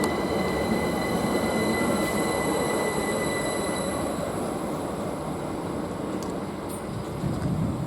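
A passenger train pulls away from Didcot Parkway station on the Great Western Main Line, a steady loud rumble of wheels and engine with faint squealing, continuous throughout with no talk.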